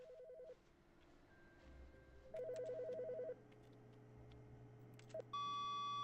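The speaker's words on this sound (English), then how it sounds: "Oh, just a phone call." A phone rings in the video game The Cookie Parable: short bursts of warbling electronic beeps repeat over a low steady hum, followed by a brighter sustained tone at the end, with no talking.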